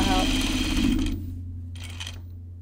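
A sewing machine runs steadily while topstitching a jacket, a close, continuous motor whir lasting about a second before stopping, then a brief second burst of stitching, with faint background hum throughout.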